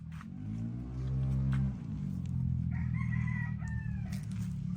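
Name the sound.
rooster crowing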